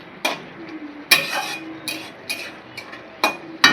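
A spoon stirs small-fish curry (chochchori) in a pan on the stove, with a few separate close scraping and clinking strokes spread across quiet gaps.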